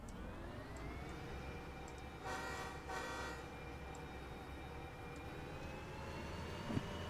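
Switcher locomotive in the train simulator game Derail Valley throttling up, a steady diesel engine drone with a rising tonal whine and a swell of engine noise midway, continuous and fairly close.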